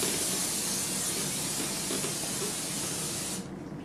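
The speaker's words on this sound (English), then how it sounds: "So just spray the counter real lightly so that it's completely non-stick." Pam cooking spray hisses steadily from a can onto a kitchen countertop, one continuous close spray lasting a few seconds before cutting off abruptly.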